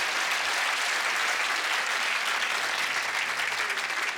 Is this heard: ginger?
no